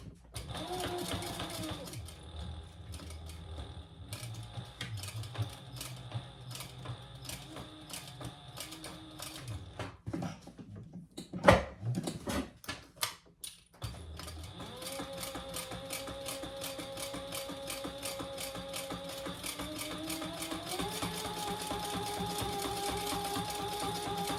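A sewing machine runs long basting stitches on fabric for a double eyeglass case, a fast mechanical rattle going in bursts with a short pause and a louder clatter midway, then steady running again.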